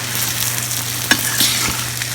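Moong and garlic frying in a pan while being stirred, a loud close sizzle with a steady electrical hum beneath and a few sharp spatula scrapes and taps against the pan.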